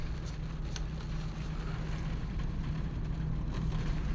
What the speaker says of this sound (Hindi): ये मेरे ऊपर आ रही है बारिश